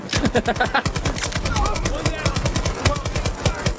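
Rapid automatic gunfire in the video game Battlefield 2042, with loud, fast rhythmic bursts of shots that repeat almost continuously, mixed with faint game effects.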